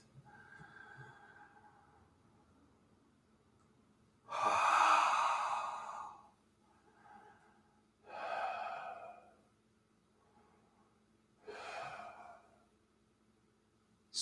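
A person in a seated yoga twist takes three long, audible breaths, each a strong rushing exhale spaced a few seconds apart, close and clear against a quiet room.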